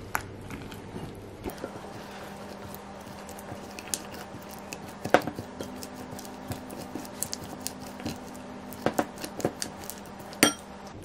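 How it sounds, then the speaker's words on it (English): Pepperoni and keto pizza bite ingredients being mixed in a bowl, scattered clinks and taps of a utensil against the bowl over a quiet background with a low steady hum. "now we're just going to mix all this together"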